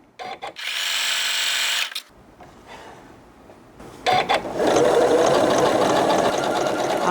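A Janome S9 sewing machine runs in bursts, with a fast mechanical whirring stitch, a pause with lighter clicks, and then a longer loud run close by.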